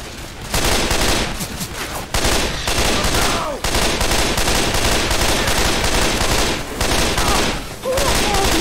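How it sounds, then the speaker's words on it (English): Sustained rapid gunfire from several weapons in Left 4 Dead, a loud, dense rattling barrage that runs almost nonstop with only a few brief gaps, in a tunnel setting with holiday mods. "Who the hell do you think you're shooting?"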